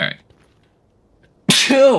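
One short, sharp sneeze opens, followed by near silence, then a person speaks loudly.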